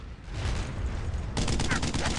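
Gunfire in Brothers in Arms: Road to Hill 30 crackles in a dense, sustained burst, turning sharper and more clipped near the end; no voices.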